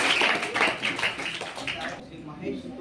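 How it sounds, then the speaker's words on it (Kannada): Loud clapping from an audience at a school event, a dense burst of applause lasting about two seconds before fading into quieter room sound. "ಜೋರ ಚಪ್ಪಾಳೆಯೊಂದಿಗೆ ಅವರನ್ನು"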